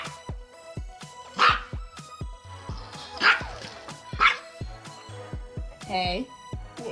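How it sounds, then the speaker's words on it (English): A dog barks repeatedly in sharp, close bursts, with a few higher yips and a whimper, while a person talks between the barks. "we don't bark this early."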